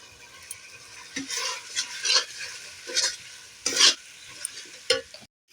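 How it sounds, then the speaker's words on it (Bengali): Ground peanut paste fries in a pan while a spoon stirs it, giving a continuous soft sizzle broken by repeated scraping strokes against the pan's surface. "বাদাম বাটাটা ভাজা ভাজা হয়ে আসছে অল্প লাল হয়ে আসছে আর কিছুক্ষণ লাগবে আমি ততটাই কিন্তু নাড়তে থাকবো"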